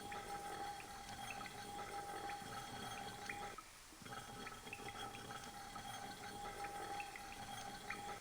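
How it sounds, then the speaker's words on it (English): Steady running water in the Grim Fandango Remastered adventure game, a continuous rushing flow with a faint high tone, briefly dipping before resuming. "Maybe I turn off the water now."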